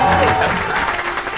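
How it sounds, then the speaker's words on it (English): Applause erupts at the opening of a voice-adventure audio drama, a thick, loud burst of clapping that holds steady for over a second with faint tonal sounds threaded through it. "A roaring applause from above."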